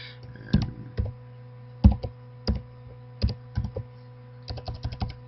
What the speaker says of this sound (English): even with my 2-finger typing that I do